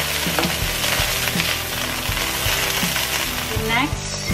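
Chicken pieces browning skin-down in a hot frying pan for chop suey, with steady close sizzling and frying crackle throughout and a few low clanks of the pan.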